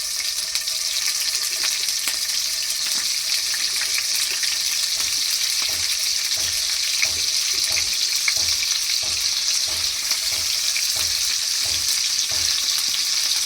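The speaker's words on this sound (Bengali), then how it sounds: "হালকা করে পনিরগুলো ভেজে নিতে হবে" Paneer pieces frying lightly in oil in a kadai give a steady, close hiss throughout, with soft rhythmic stirring scrapes repeating underneath.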